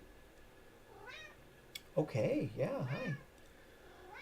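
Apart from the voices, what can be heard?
cat meowing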